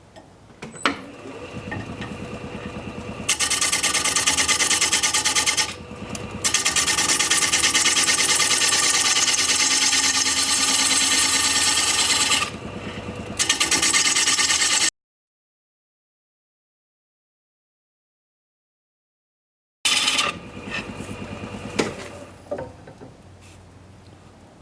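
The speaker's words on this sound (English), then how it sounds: "we're sticking with the 5/8 inch bowl gouge" Wood lathe turning a maple slab into a bowl with a 5/8 inch bowl gouge, a loud, sustained scraping and hissing cut broken by short pauses, then a silent gap and a final burst of cutting.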